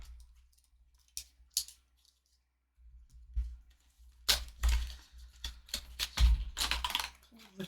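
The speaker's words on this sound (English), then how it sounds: "Just going to go ahead, cut the seal." A blade slicing through the seal on the box of a VisionTek 100W high speed USB charger gives a few sharp clicks and crackles, then a busier run of cutting and rustling near the end.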